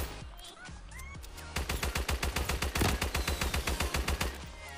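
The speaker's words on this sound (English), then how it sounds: "Shoot this tree!" A steady rapid string of gunshots in Fortnite aimed at a tree, evenly spaced loud cracks following a short stretch of game noise.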